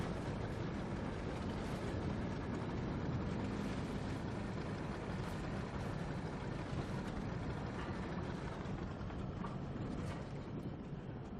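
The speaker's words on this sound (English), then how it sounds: "Okay, so this is a motorboat, right? Okay, so that's clearly a motor." A motorboat motor running in the video game Reanimal, a steady broadband mechanical drone with continuous churning rumble, fairly quiet and unbroken throughout, with no voices.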